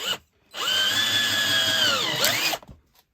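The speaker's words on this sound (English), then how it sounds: "I'm going to leave it on drill and show you how deep this will go just on drill" A Black & Decker keyless-chuck power drill whirs up and runs steadily for about two seconds, its pitch dropping as it bites into wood, then stops abruptly.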